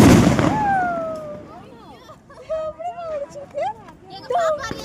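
A Diwali firecracker bursts with a loud crack at the start, followed by crackling and whistling as children talk and shout nearby.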